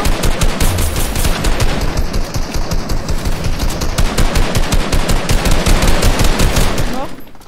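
Rapid automatic gunfire from a video game fires in dense, continuous bursts for about seven seconds, loud and close, before cutting off abruptly at the end.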